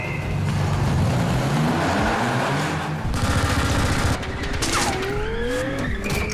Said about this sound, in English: he's being shot at by a machine gun and shot at by these grenade launchers